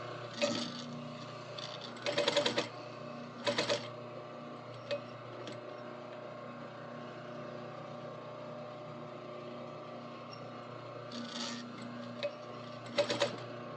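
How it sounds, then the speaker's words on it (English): A sewing machine back stitches a liner seam with a half-inch seam allowance, running in several short whirring bursts separated by pauses over a faint steady hum. "normal, run-of-the-mill back stitch to start"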